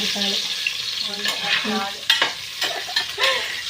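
Spices tempering in hot oil in a pan for biryani, crackling and sizzling steadily with stirring scrapes and sharp bursts of spatter throughout, close and fairly loud.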